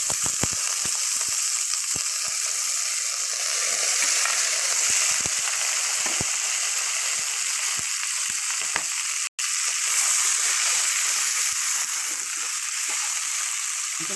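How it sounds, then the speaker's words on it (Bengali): Thin chicken pieces for chilli chicken fry in hot oil with a dense, continuous sizzle and scattered crackles, briefly cutting out once before the hiss resumes. "পাতলা আমি একবারে ভেজে নেব"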